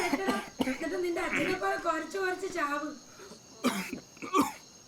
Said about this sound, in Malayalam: ഭയങ്കര ചുമയാണല്ലോ